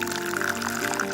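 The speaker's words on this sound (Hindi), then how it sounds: "ये कपड़ा बिछाएं और ये पका हुआ पनीर इसमें डाल दें" Hot cooked paneer is poured into a muslin cloth lining a large bowl, giving a brief, continuous liquid pouring and splashing sound heard up close without talk.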